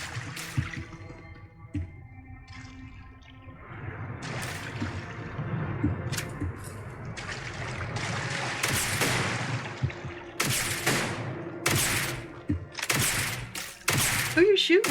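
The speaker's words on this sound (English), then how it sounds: "Who are you shooting at?" Scattered gunfire crackles in Starfield Shattered Space, sharp shots arriving irregularly and in clusters over a game backdrop, with brief voices in between.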